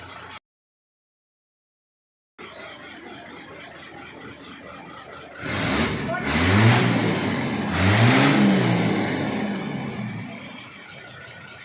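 After a brief dropout, a car engine idles, then revs up twice, rising and falling in pitch, loud and close.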